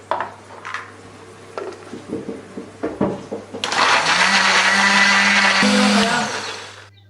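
A few clinks and taps, then a blender roars loudly for about three seconds, grinding chili spice paste with a little water steadily before winding down.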